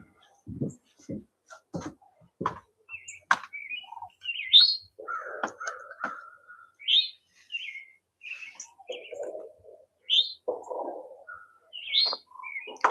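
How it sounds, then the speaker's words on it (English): A bird calls frantically just outside, with a rapid jumble of chirps, squawks and harsh caw-like notes in irregular bursts, loud and close, with nothing else heard. "That was a bird absolutely losing its mind right outside."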